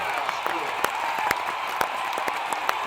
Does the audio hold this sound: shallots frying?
no